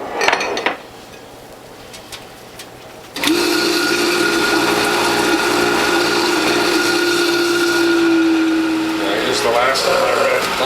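A front-loading juicer shreds watermelon red pulp. A few clatters lead into a loud, steady motor whine and grinding that runs unbroken to the end.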